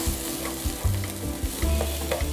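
Curly red chillies and bird's eye chillies frying in a pan with browning onions, a loud close sizzle with rhythmic scraping stirs repeating every half second or so, with no talk.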